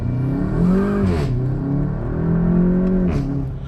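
Exhaust of a 2016 VW Golf GTI Clubsport heard from inside the car, a steady droning note that rises and falls gently as the car accelerates and eases off, with no talking.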